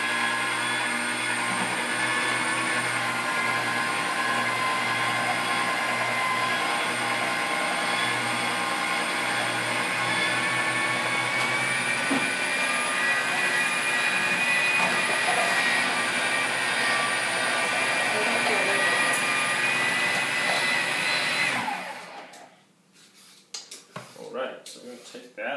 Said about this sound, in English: So what we're going to do is just take some cucumbers here, and we're going to shred these up.